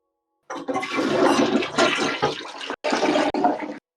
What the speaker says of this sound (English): flush it down the toilet